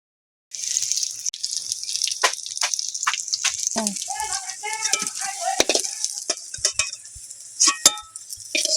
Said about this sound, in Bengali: আমার সবগুলো ভাজা হয়ে গেছে, মুচমুচে করে ভেজে নিয়েছি